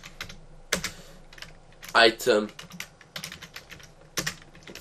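Computer keyboard typing while writing item-class code for a Minecraft Forge 1.7 mod: irregular bursts of crisp, close keystrokes with pauses between clusters, and someone briefly speaks partway through.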